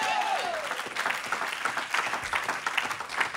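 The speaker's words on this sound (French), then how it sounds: "Est-ce qu'on peut acclamer le Seigneur Jésus?" A church congregation applauds and cheers during a French-language evangelical service, a dense, sustained clapping crowd filling the room at moderate loudness, with no speech over it.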